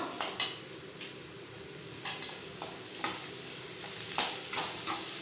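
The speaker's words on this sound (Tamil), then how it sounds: "வெங்காயமும் பூண்டும் லைட் கோல்டன் ப்ரௌன் வர வரைக்கும் வந்து நல்லா நீங்கள் வந்து வதக்கிக்கோங்க" Shallots and garlic fry in a pan with a soft, steady sizzle, broken by scattered clinks and scrapes of a spoon against the metal as they are stirred, with no speech.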